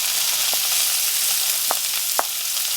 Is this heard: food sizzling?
yes